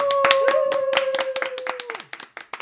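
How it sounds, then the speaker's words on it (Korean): A short burst of hand clapping from a few people, fast and uneven, fading into scattered claps near the end, over a steady electronic tone. "박수."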